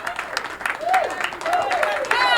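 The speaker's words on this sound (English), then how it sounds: "Well-deserved applause." An audience applauds the champions at a televised bowling doubles event, with a dense wash of clapping and a voice speaking over it.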